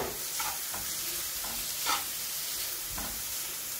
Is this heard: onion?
yes